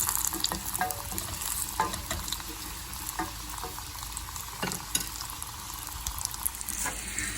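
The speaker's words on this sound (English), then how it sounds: "Sauté the mushroom caps in the clarified butter, but make sure they're still firm." Mushroom caps sauté in hot clarified butter, giving a steady, close sizzle and crackle with faint stirring and occasional pops throughout.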